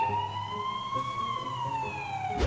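A wailing emergency siren, the kind an ambulance carries, sweeps in a slow steady tone and sounds moderately loud, with a brief noisy burst at the very end.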